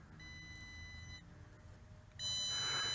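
A Holystone HS720G GPS drone gives low-voltage warning beeps: high electronic tones sound in short repeated bursts, then a louder, sustained stretch of beeping near the end.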